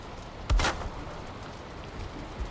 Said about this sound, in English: Just in time for the rain.